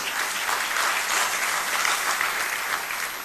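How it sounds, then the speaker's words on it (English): Loud, dense applause from a large audience at a presidential acceptance speech, continuous clapping from many hands filling the hall without a break. "And let us applaud them and thank them."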